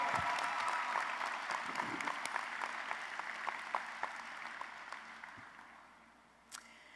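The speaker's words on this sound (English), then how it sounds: "Graduates, let's give a round of applause to the family, friends, mentors, and encouragers who have supported you" Graduates and guests at a spring graduate and professional hooding ceremony applaud their families, friends and mentors, a sustained round of crowd clapping in a large hall that slowly fades, with a camera click near the end.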